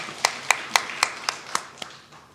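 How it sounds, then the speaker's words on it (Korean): A congregation at a Korean church's New Year special early-morning prayer service claps in blessing, about eight crisp, evenly spaced claps that soften toward the end. "우리 축복의 박수 하도록 하겠습니다"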